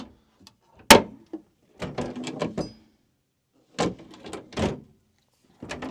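Storage compartment door on a 1998 Beaver Marquis motorhome: a sharp close-range thunk and latch click, then several clattering bumps and rattles of the hatch being worked, in irregular bursts separated by quiet gaps.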